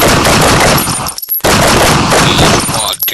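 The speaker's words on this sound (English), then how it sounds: "it'll sound like explosions, like, and it'll be like gunshots" Loud, dense bursts of rapid gunfire and explosion-like crackle fill a podcast intro, with a brief break in the middle before another sustained volley, close and harsh throughout.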